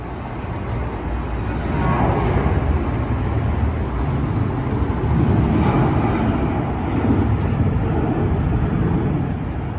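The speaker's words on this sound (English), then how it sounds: "I might as well do some plane spotting. Whoa, there's a T-38." A T-38 jet passes overhead near a light rail line, a loud, broad roar that swells and fades over several seconds against steady outdoor background noise.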